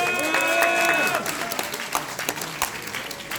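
An audience claps at a public debate forum on election fraud, with voices calling out over the start. The applause is lively, then thins into scattered, irregular claps.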